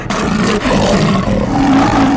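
A large animal, a lion in a children's story, roars angrily in one loud, sustained, rumbling growl that fills the clip, close and alone without talk.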